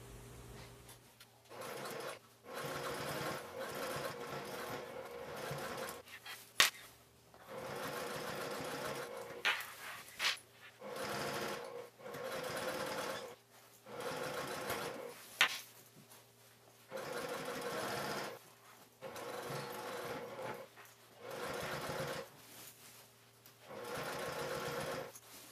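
A sewing machine top stitches along a bag seam at an eighth-inch allowance, running in repeated bursts of steady whirring separated by short pauses, close and fairly quiet, with occasional sharp clicks.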